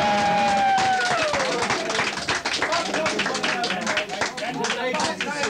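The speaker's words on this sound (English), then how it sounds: "So we want a big cheer now for Dan Jim." Cheering and clapping from a crowd in a Cork pub, Bowlers Bar, in 1981: dense, continuous applause with lively voices mixed in, loud throughout.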